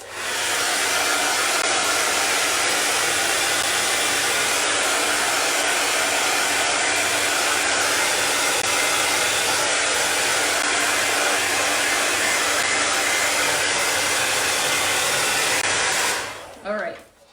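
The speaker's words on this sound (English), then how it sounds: "I only use my hair dryer really for live so that I can speed up the process" A hair dryer blows steadily and loudly for about sixteen seconds to dry paint on a buffalo plaid painting, then clicks off abruptly.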